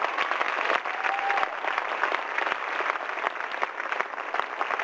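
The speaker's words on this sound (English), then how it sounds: "Give her an applause." Applause for an award recipient at an awards event, a full crowd clapping steadily and briskly with crisp individual claps standing out, and a faint whistle briefly rising over it early on.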